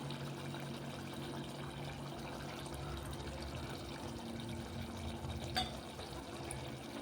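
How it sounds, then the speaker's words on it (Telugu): Lemon juice poured into a pot of chicken pulao, giving a steady, close liquid pour and trickle that runs the whole time over a low kitchen hum, with one brief knock near the end. "ఇప్పుడు నిమ్మకాయ రసం పోద్దామండి దీంట్లో"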